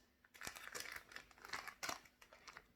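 Soft plastic packaging crinkles and rustles up close in irregular bursts of crackly handling, quiet overall with no voices.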